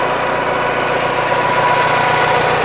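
A 1973 IH Farmall 140 tractor engine idles in a steady, loud, close rumble with an even low throb and no pauses or voices.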